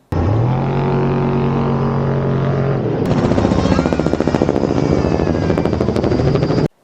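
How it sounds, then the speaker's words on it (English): Helicopters flying low to chase off-road trucks during the Knolls 250 desert race, a loud, close rotor roar that shifts midway into a rapid, heavy thumping blade chop, continuous and without talk. "They use helicopters to actually chase the trucks or the vehicles"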